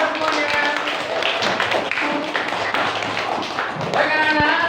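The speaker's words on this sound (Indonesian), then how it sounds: "Beri tepuk tangan untuk kita semuanya." Schoolchildren in a classroom religion lesson clap along, scattered hand claps with a few sharp distinct strikes near the start and end, mixed with a teacher's voice and children talking.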